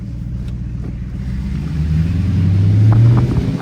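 A Dodge Demon Charger drives through a heavy snowstorm, its engine rumbling low and close, then swelling into a deeper growl as it accelerates.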